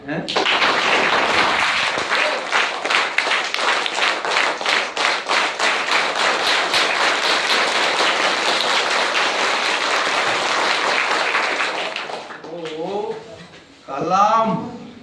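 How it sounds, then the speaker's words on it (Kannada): A large audience at a motivational talk applauds in honour of Kalam, a dense, sustained round of clapping lasting about twelve seconds before it fades and a voice begins speaking. "ದೊಡ್ಡ ಚಪ್ಪಾಳೆ ಕಲಾಂಗೆ."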